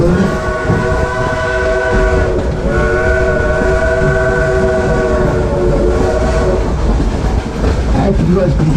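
A Type 282 steam locomotive weighing 211,000 pounds runs at Dollywood, its whistle blowing long sustained tones over the rumble and clatter of the train, loud and close.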